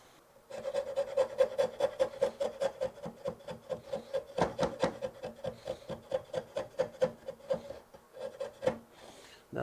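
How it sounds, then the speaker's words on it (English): Steel chisel scraping and paring at old glue on antique wooden furniture during restoration, a steady run of close, rhythmic rasping strokes with a few sharper knocks, no talking. "let's get a chisel."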